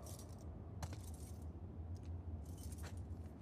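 Keys jangling as a character tries them in a lock in The Last of Us Part II, with two or three short metallic bursts of clinking over a steady low ambient hum, close and fairly quiet.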